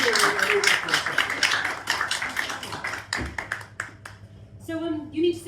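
Audience at a live comedy show claps, the dense applause rattling loudly at first and then thinning into scattered claps before a voice begins speaking.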